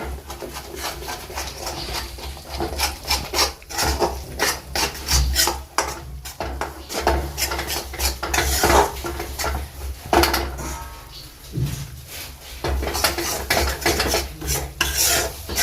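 Gram flour stirred and roasted in hot ghee for a sweet sheera, heard as a continuous close rasping scrape of a spoon against the pan in quick repeated strokes, with no talking.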